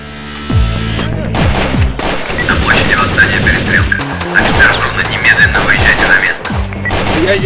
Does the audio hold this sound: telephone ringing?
no